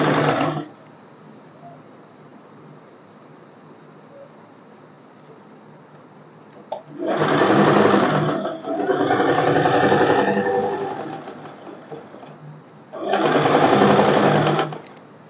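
A sewing machine stitches an umbrella frock in two or three loud, sustained bursts of rapid whirring, separated by quieter pauses with a faint background hum.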